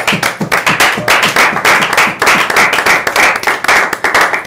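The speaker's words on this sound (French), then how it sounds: "Acclamons pour le roi du roi." A church congregation claps in loud, steady rhythmic beats, with many hands striking together close by.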